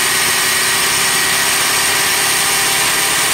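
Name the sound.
2000 Lincoln LS engine revving and hanging at high idle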